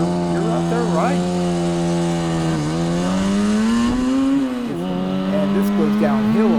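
A 1967 Yamaha YL1-E Twin Jet 100 two-stroke motorcycle engine runs steadily under load while riding, its buzzing note dipping and climbing as the revs shift, loud and close throughout.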